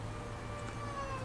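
A house cat meows indoors, one drawn-out tonal cry that holds steady through the moment at a moderate level over a low background hum, with no talking.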